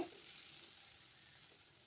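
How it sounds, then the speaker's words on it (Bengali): Potatoes fry on low flame in a pan for a Bengali jhinge aalu posto dish, giving a faint, steady sizzle with a soft stir at the start and no voices. "আলুগুলো বেশ একটু ভালো করে এবার ভাজা হয়ে গেছে"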